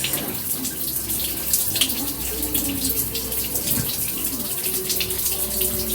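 Water runs steadily from a tap for washing waist-length hair, a constant close splashing stream that continues throughout without pause.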